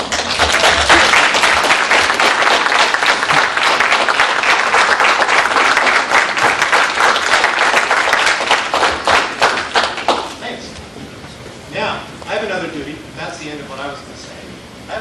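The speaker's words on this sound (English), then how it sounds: "give you a round of applause" A graduating respiratory therapy class and audience applaud in a large hall, dense sustained clapping for about ten seconds that thins into scattered claps as a voice begins speaking over the tail.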